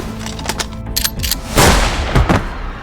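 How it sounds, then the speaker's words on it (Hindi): Gunshots play as a sound effect in a horror audio drama. Several sharp cracks come in quick succession, with one louder, fuller blast near the middle, each followed by a short ringing decay. "गोली चला दी।"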